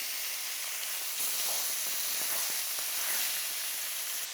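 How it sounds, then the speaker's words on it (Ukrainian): Rabbit meat browning in a pan for a stew with sour cream gives a steady, close hiss and sizzle with faint crackles, continuous throughout and without talk. "Друзі, ми тільки обсмажуємо, ми не смажемо."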